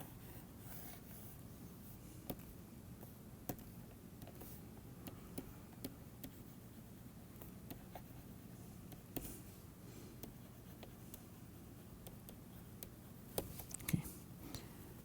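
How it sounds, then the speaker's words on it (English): A hand writing an equation, faint scratchy strokes with light intermittent ticks and taps, quiet and close in a still room. "so let me just write that again"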